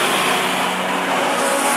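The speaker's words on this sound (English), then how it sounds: "The Outlaw Sprint Sedans. And we're racing." Outlaw Sprint Sedan race cars roar around the oval at Mac's Speedway, a loud, steady blare of engines at speed with no break, close and dominating.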